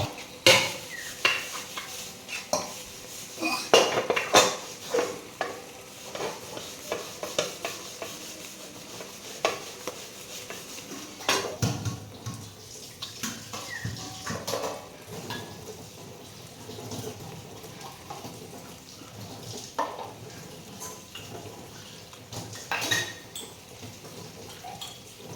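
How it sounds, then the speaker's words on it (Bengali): Pots and dishes scrubbed and rinsed in a home kitchen sink while hilsa fish cooks nearby: scattered clinks, scraping and splashing water, moderately close, with no talking. "সে বাসনগুলো মেজে ধুয়ে নিচ্ছি।"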